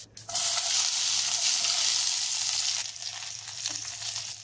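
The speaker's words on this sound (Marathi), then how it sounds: "हा लसूण आहे ना हा आपल्याला थोडासा खरपूस असा हे करून घ्यायचा आहे, लालसर होईल इथपर्यंत करायचं" Sliced garlic with cumin seeds and asafoetida frying in hot oil, a loud steady sizzle that starts abruptly and holds throughout, easing slightly toward the end, with no talking.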